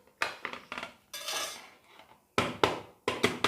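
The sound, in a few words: tapping an upturned cake tin to release a vegetable cake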